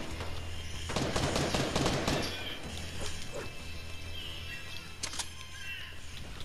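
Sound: gunfire in a shooter video game

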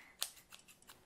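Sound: blunt scissors cutting trousers fabric

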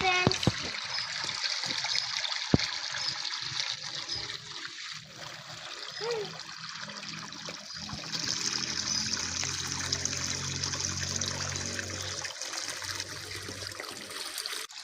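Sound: water flowing while watering plants

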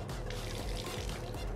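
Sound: liquid poured from bottle into a cocktail shaker

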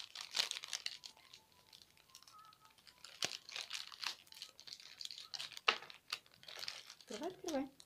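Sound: plastic toy packets being cut and opened

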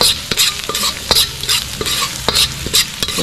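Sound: garlic sautéing in a pan

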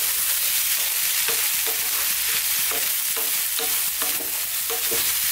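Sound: chickpeas with garlic and onion stirred on high heat

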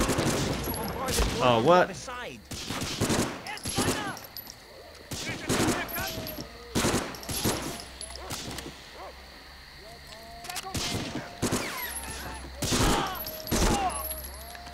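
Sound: gunfire in video game Medal of Honor Frontline

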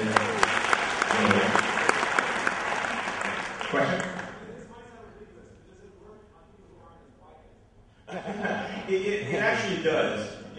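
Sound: applause

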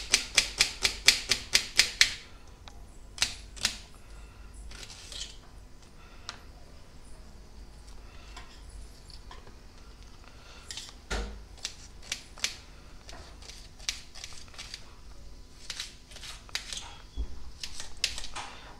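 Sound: chopping onion with a knife

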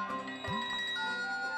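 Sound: mobile phone ringing

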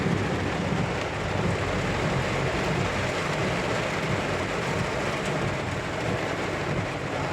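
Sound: heavy rain

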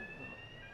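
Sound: smoke detector alarm during Testifire XTR2 test

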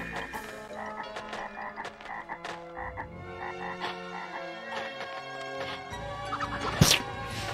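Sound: frog croaking in a video game (Castleween)

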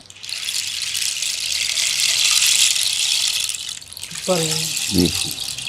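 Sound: rain stick: seeds falling on inner thorns, rain-like sound

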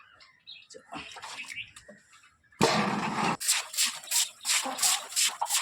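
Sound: water splashing while cleaning the outdoor tap area

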